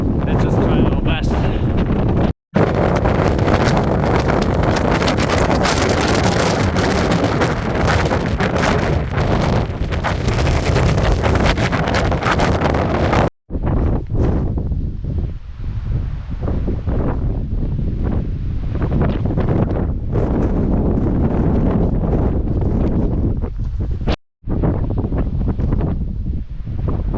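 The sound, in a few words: strong wind on the Tongariro Alpine Crossing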